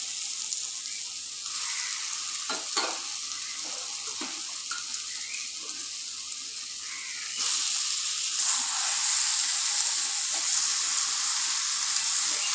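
Fried jackfruit and potato pieces sizzle and hiss in a pan of spiced vegetarian curry, a steady close frying crackle with scattered stirring clicks that swells louder near the end.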